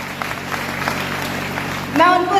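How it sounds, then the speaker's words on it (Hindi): An audience claps for teachers at a gathering, a dense patter of applause filling the moment before a voice begins speaking over it near the end. "जोरदार ताली होनी चाहिए"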